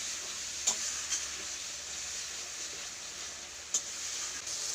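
Spice paste for raw banana kofta sizzles and fries steadily in a pan, a constant soft hiss with a few sharp clicks of a spoon stirring against the metal, no voices.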